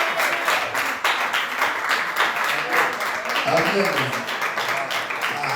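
A church congregation keeps applauding the children with dense, continuous clapping from a crowd, while a voice speaks over the applause.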